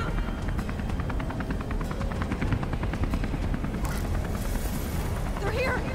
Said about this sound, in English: Take the chopper down!